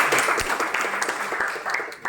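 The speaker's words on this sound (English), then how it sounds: "Please clap." Audience clapping at a sociology career guidance workshop at Banaras Hindu University, steady dense applause sustained throughout at moderate loudness.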